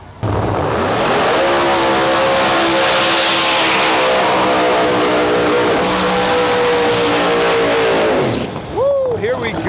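Two Pro Mod drag cars launch side by side in the semifinals at a Canadian outlaw drag event: a deep, loud, sustained engine roar that climbs in pitch, dips with gear changes, then fades as a voice cuts in at the end.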